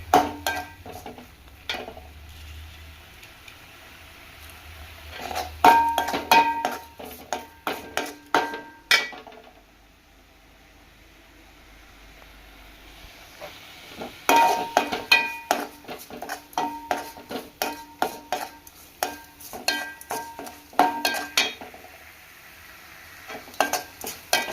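Fish curry masala with onion, tomato, green chilli and curry leaves frying in oil in a pan, a low sizzle under bursts of rapid metallic spoon scraping and clatter against the pan, a quieter pause in the middle.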